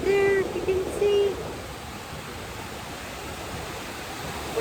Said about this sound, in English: Waves are picking up